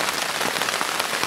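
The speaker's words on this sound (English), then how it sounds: "It's coming down out there. We're in the middle of a storm." Heavy storm rain drums steadily on a tent's fabric in the wild, a dense, continuous hiss of close, loud drops with no voices.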